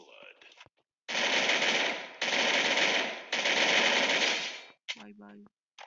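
Bursts of rapid automatic gunfire in the Free Fire battle royale game, three long sustained volleys back to back, loud and close, with brief game sounds before and after.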